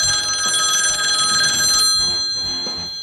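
An old-fashioned telephone bell rings steadily and loudly for about two seconds in a 1920s radio advertisement, then cuts off into quieter background.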